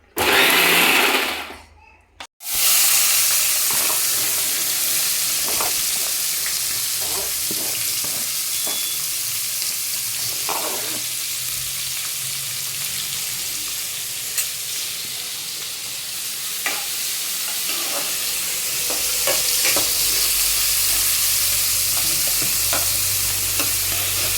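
Onions sizzle and fry in a pan for a Kannada-style avarekalu and dill leaf palya, a continuous loud crackle with intermittent scraping and stirring clicks, briefly interrupted near the start.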